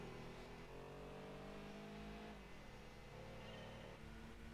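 Racing game car engine, a PD diesel modelled on an Audi, revs hard and loud at around 5,000 rpm, with steady droning harmonics that dip and shift as the revs change across the whole stretch.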